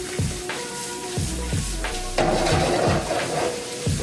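Sausage seasoned with coarse black pepper fries in hot oil, giving a steady dense sizzle with intermittent utensil scrapes and stirring thumps, close and loud with no talking.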